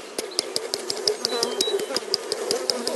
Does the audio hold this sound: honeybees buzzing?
yes